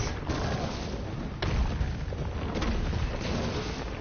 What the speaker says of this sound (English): Just use all my grenades.